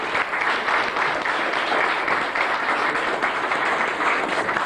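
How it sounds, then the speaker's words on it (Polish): Sustained audience applause for a men's competition winner at a local community day event in Poland, steady dense clapping from a crowd lasting several seconds without talk. "W konkurencji panów pierwsze miejsce, sądząc po długości oklasków, zajął Adam Kotarski."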